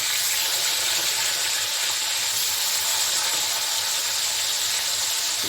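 Pieces of shol (snakehead) fish fry in hot oil in a pan as they are flipped, a steady, loud, close sizzle that holds unbroken throughout without any talk.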